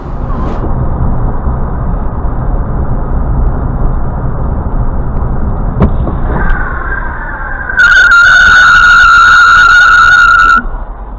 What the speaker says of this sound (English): Oh, we just watched the crash happen.